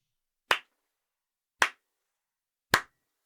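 Three single claps spaced about a second apart, sharp and clear against silence, a deliberate slow clap.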